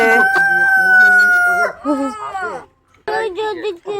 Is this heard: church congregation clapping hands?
no